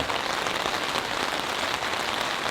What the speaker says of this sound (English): It is currently 1:30 and it is absolutely pouring outside.